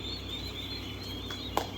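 Three-day-old turkey poults in a barn give high, thin peeping calls that run as a continuous chorus over a low steady hum, with a brief knock near the end.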